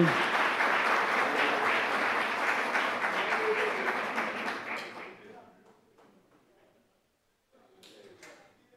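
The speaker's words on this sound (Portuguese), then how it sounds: "Aplausos para eles novamente" Audience applause at a book launch in Limeira, a dense, steady clapping from a seated crowd that fades out after about five seconds, leaving a quiet room with a few scattered claps and faint movement.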